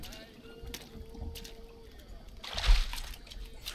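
Water splashing as a character washes off dirt in the jungle survival game Green Hell, a brief burst of sloshing in the final second over low ambient noise, with someone talking in the first part.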